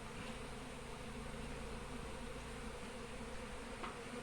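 A swarm of honeybees buzzes steadily as they circle in flight looking for their queen, a dense, continuous hum that stays fairly close throughout with no voices.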